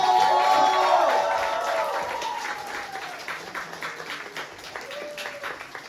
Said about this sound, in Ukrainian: Оплески від тих, хто прийшов сюди прямо з роботи